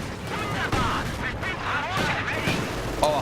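A rifle grenade explodes in a World War II strategy video game, heard as a dense, loud crackle of blasts and gunfire with rumbling low end, under a continuous background of battle noise.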